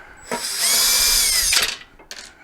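Power drill backing screws out of the top shroud of a Golden EX mobility scooter transaxle, a close high whine of about one second followed by a short second burst, with clicks between.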